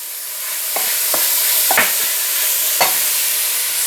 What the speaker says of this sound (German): solange der Speck da vor sich hin ausläuft